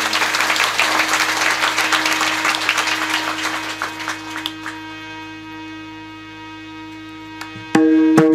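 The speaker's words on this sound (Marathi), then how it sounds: "टाळी वाजून स्वागत करा." An audience at a kirtan gathering claps to welcome the harmonium and mridang players, the dense applause thinning out midway into scattered claps, with a sustained harmonium drone underneath and a loud chord striking near the end.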